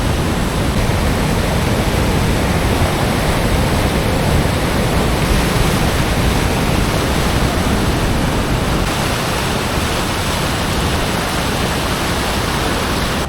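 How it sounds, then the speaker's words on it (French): Waterfalls near Roman ruins in the Antalya region roar in a dense, steady, unbroken rush of falling water, loud and close throughout with no voices. "c'est vrai qu'elles sont impressionnantes ces cascades"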